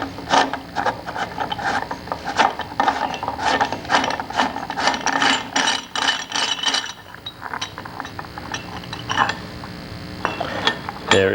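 Wrench ratcheting on a wheel hub nut of a Bentley 3 1/2 or 4 1/4 litre, close and loud, with rapid clicking pawl bursts in uneven runs that thin to sparser clicks toward the end.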